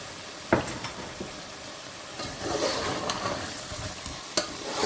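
Chicken and potato korma being stir-fried after crushed garam masala goes in, with a steady close sizzle and several sharp spoon scrapes against the pot as it's stirred.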